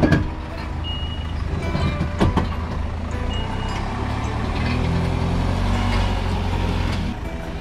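A van in snowy winter conditions beeps while reversing, the alarm repeating over a low engine rumble at moderate distance, with no one speaking.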